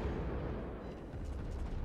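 Rear naval guns firing in a warship video game, heard as a dense, low rumbling roar of blasts that fills the clip evenly, loud and continuous with no distinct separate shots and no talking.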